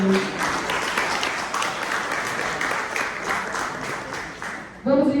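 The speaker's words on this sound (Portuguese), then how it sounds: "Uma salva de palmas para a Cris também" At a seminar on popular housing and land regularization, an audience gives Cristiane Veríssimo warm, sustained applause that fades before a voice begins speaking.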